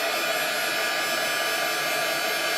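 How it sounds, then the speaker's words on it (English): A heat gun blows a loud, steady broadband roar while setting embossing glitter on a shaker card, close and unbroken throughout. "So we're using our heat gun and we're setting this glitter"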